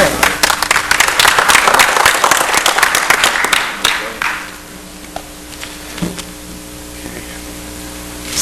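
A dense burst of loud applause from a civic audience honoring a proclamation, sustained for about four seconds before tapering off into quieter room noise with a few scattered claps.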